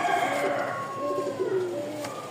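A Rajshahi pigeon coos close by, giving a run of throaty, rolling calls in quick succession that stand out clearly over a quiet background.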